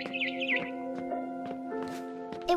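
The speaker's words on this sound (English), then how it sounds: "Then I heard chirping outside my window." Barn swallow chirping in the video game What Remains of Edith Finch: quick high twittering calls near the start over a steady hum of game music and ambience, with a few soft clicks afterward.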